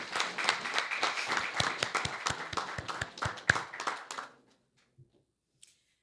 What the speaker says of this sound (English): round of applause for the agriculture sector in St.